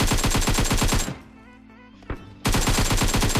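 Rapid automatic gunfire in the video game PUBG crackles in loud bursts, stopping for about a second with a single shot in the gap before the sustained firing resumes.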